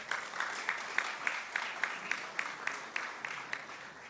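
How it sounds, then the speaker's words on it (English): Audience clapping at the Caribbean Broadcasting Union Media Awards gala, with steady, evenly spaced claps beating in a quick rhythm over a low hum of crowd noise. "You can go ahead, clap for that."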